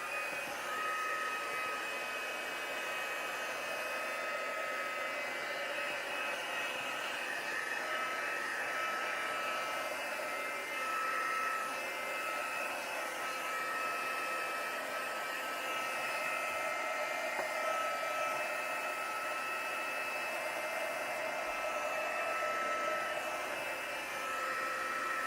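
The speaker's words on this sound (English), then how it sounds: "Now you can use a hairdryer to dry, so I'm going to do that quickly" A hairdryer blowing over wet acrylic paint on an abstract sunset painting, a steady whining fan roar held at constant strength throughout with no talk.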